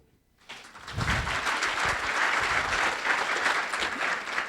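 After a brief hush, a chamber of commerce meeting audience bursts into sustained clapping of approval that stays loud and even throughout, with a faint murmur of voices underneath.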